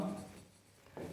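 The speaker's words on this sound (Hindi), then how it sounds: "मैं यहाँ पे लिख रहा हूँ" Marker or chalk writing on a board during a history lecture: a brief soft scrape opening the moment, then a second short stroke, faint and close.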